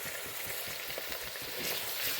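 Onions sauté in a pan for a native-style Tamil hariyali chicken, giving a continuous crackling sizzle with faint stirring beneath, steady and close.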